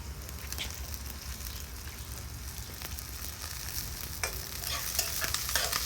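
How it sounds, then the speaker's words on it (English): Peppers and celery fry in a pan with a steady close sizzle, joined by occasional scraping stirs and clacks of a utensil, with no talking. "I'll let this fry it up for a little"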